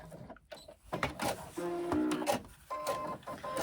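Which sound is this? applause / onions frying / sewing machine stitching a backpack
sewing machine stitching a backpack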